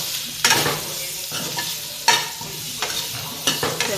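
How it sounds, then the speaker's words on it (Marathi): Ground coriander and turmeric sizzle in hot oil in a pan for a drumstick (moringa) vegetable curry, with repeated scraping stirs at a steady, uneven rhythm, close and fairly loud. "ह्याला पण मी असेच हलवते जरा"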